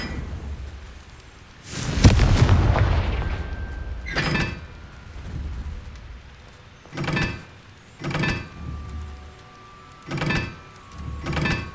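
Fiery Confringo spell blasts in Hogwarts Legacy, a loud burst with rumbling low-end tail followed by several shorter, sharp explosive bursts spaced a second or two apart, with no talking.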